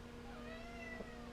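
A house cat named Zora gives a single drawn-out meow up close, a clear tonal cry over faint room noise.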